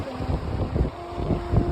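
Wind blowing along the Atlantic Ocean shore at Peggy's Cove by the lighthouse, a steady, fairly loud buffeting rush against the microphone with low gusty rumble throughout and no voices.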